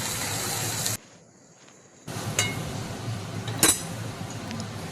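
Okra and potatoes stirred in a pan with a utensil: scraping and light clinks. These are interrupted by a second of near silence, then resume with a few sharper metallic knocks against the pan.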